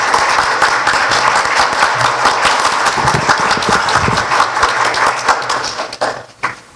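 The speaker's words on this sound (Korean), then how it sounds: "열렬한 우리 박수로 환영을 좀 해주십시오" At a CEO luncheon, a banquet audience gives the KDB Korea Development Bank chairman a warm round of applause, sustained close clapping that thins out and fades near the end.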